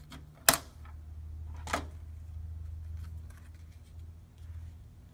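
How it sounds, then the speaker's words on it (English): A paper trimmer cuts a card panel, giving two sharp clicks of the blade about a second apart over a low steady room hum. "Then I'm going to take my paper trimmer, and I'm just going to cut in."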